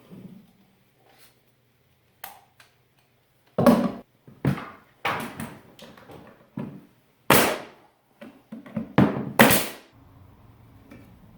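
Sharp wooden knocks from a wooden pounding block hammering hardwood stair boards land in an irregular series, some single and some in quick pairs, close and loud against a quiet background.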